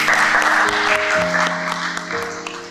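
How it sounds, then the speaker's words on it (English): A school awards ceremony audience applauds the parents of graduating primary seven pupils, a dense, steady wash of clapping with a sustained musical tone running underneath throughout. "Great hand clap for our parents."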